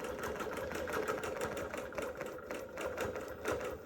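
Bernina Q24 longarm quilting machine stitching under Qmatic computer control, a steady fast mechanical chatter of needle strokes with a continuous motor hum, close and even throughout.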